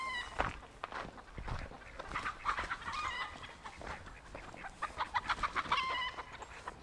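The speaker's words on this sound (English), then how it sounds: "Go get the chickens." Chickens on a farm cluck and squawk up close in a busy, irregular run of calls that grows more rapid toward the end, with faint background noise and no clear speech.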